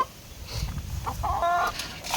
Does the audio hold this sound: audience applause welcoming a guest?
no